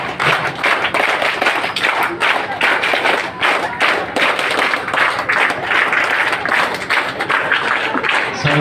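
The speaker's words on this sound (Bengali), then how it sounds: "তুমি কত জোরে তোমরা করতালি দিতে পারবে?" Loud, energetic audience applause at a college debate society ceremony, a dense, continuous burst of many hands clapping with tapping and thudding, crowd noise mixed in.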